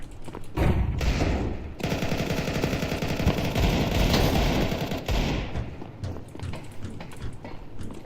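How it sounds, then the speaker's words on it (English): A flashbang grenade thrown in an online competitive shooter match, heard amid sustained rapid gunfire and clattering action that runs loud and dense for most of the stretch before thinning out. "Throw in the flashbang."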